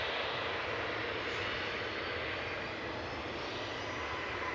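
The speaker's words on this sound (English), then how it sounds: "Finnair heading back to Helsinki with flight 1366." A Finnair jet airliner departs Manchester Airport on a flight to Helsinki, its engines giving a steady, loud broadband roar that holds evenly from start to finish with no talk over it.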